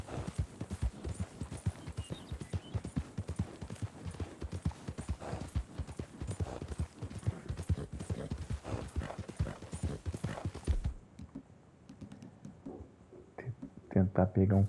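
Horse hooves clip-clop steadily in Red Dead Redemption 2, a quick continuous trot near a newly built fence, with someone talking over the hoofbeats before they stop abruptly near the end.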